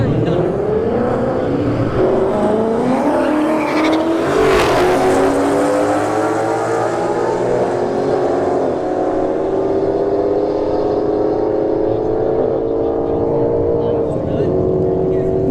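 An S197 Ford Mustang and a Dodge Charger Scat Pack launch side by side down a drag strip, loud engines roaring and climbing in pitch through the gears, with a sharp burst midway and a steady high-volume wash throughout.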